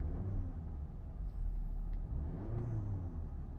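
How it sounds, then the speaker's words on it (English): A 2020 VW Passat R-Line with a tuned 2.0T engine rumbles steadily while parked, the low engine drone swelling slightly as it is revved. "I don't like revving my car sitting"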